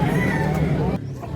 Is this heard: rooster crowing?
yes